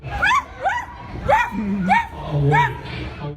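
A voice imitates a dog, giving a string of short, yelping barks and whimpers at a steady pace, loud and close.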